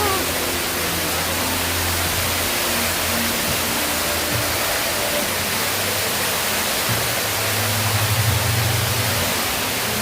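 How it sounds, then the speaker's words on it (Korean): Steady rushing water flows nearby in Suncheon Bay National Garden, a constant broadband wash with faint low hum underneath and no breaks across the clip. "물소리예요."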